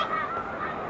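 Snow geese on Cayuga Lake give a brief burst of nasal honking, several overlapping calls packed into under a second at moderate distance.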